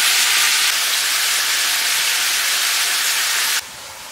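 Meat for pot roast sears in a hot pan, a loud steady broadband sizzle that holds evenly, then suddenly drops to a quieter hiss near the end.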